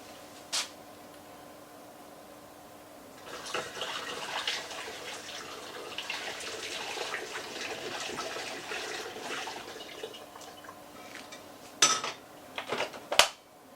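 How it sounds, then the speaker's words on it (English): Water is poured steadily into a metal pan for several seconds, a continuous splashing rush ending with a few sharp clanks of cookware. "I'm just going to dump my water in."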